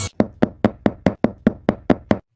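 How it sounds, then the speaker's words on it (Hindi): Loud, heavy knocking on a door in a Hindi cartoon: ten evenly spaced hard thuds in quick succession, close and alone, then stopping. "इतनी तेज तेज दरवाजा कौन खटखटा रहा है?"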